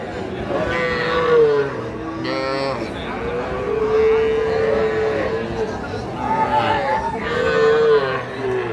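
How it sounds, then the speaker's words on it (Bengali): Young heifer calves and cattle at a cattle market moo repeatedly, several drawn-out calls rising over a steady hubbub of crowd noise, fairly close and loud. "তাহলে এগুলো সব বকনা বাছুর"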